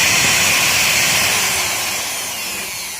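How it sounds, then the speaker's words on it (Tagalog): An angle grinder runs loud and steady at full speed after its bearings were serviced with synthetic grease, a high smooth whine that eases slightly toward the end, with no one talking. "tunog ng ating grinder kaps."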